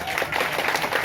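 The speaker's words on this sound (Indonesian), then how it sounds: "Tepuk tangan buat semangat kita." Audience applause at an Indonesian public discussion of farmers' groups ahead of the national farmers' day, a steady patter of many hands clapping throughout, moderately loud with crowd murmur underneath.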